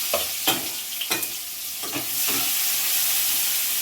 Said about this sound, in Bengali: এবার দিয়ে দেব কুচিয়ে রাখা পেঁয়াজ।